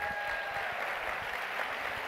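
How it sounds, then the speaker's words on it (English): Audience applause at a keynote speaking event, a dense, even wash of many hands clapping, steady and moderately loud for the whole stretch. "Please give these five people a big round of applause."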